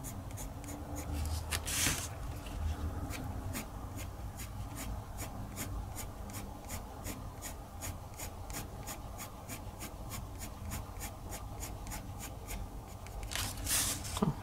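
Colored pencil in yellow-orange strokes across paper while coloring sunflower petals, a quick, steady run of close, scratchy strokes repeating evenly throughout, with no talking.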